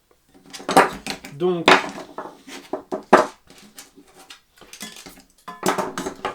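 A metal frying pan clanks and rattles as it is handled and fitted onto a target stand, with several sharp metallic knocks between stretches of someone speaking French close by.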